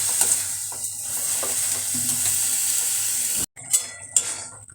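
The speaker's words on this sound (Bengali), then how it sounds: "গাজরের সাথে নাড়াচাড়া করবো ফলে কি গাজরটাও যেমন এর সাথে নাড়াচাড়ার ফলে গাজরটাও আরও ভালো বেশি ভালোভাবে ম্যাশ হয়ে যাবে" Carrots being stirred in sugar syrup in a pan, a steady close scraping and bubbling sizzle with a few spoon-on-pan clinks, briefly cut off near the end and resuming.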